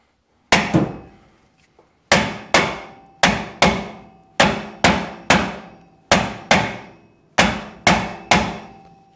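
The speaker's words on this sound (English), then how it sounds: "So I'm thinking we can fix it with a hammer." Heavy metallic hammer blows on a thick steel tow bar ring out in uneven clusters, about a dozen sharp strikes with short decaying ring, close and loud with no talking.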